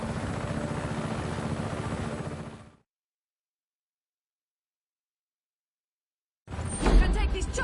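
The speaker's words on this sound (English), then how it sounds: "You can take this chopper, Fratre." A helicopter in the Just Cause 3 video game gives off a steady droning rotor roar that cuts to silence for several seconds, then returns loudly.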